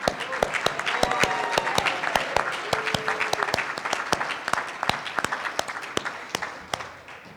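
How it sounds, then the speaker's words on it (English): Sustained audience applause at an awards ceremony, dense steady clapping from a crowd filling the whole stretch, loud and close with sharper individual claps standing out. "Let's give a round of applause."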